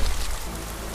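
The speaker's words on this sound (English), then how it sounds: "This rain will stop eventually." Steady rain falls in Skyrim, a dense, even hiss of drops heard alone for about a second.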